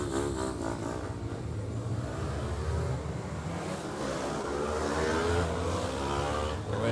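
Small mini bike engines drone and rev at the Irish Mini Bike Championship as riders head out for a lap before the race. The engine noise is continuous and fairly loud, swelling slightly toward the end, with no speech.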